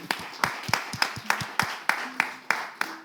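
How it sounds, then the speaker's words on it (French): Applause at a prize draw, with about ten sharp, evenly spaced claps ringing out in a slow rhythm and some faint voices underneath. "On va applaudir, s'il vous plaît."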